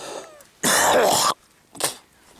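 A man in hazy air in Palawan, Philippines gives a single harsh, raspy cough or throat clear, followed a moment later by a shorter, softer one.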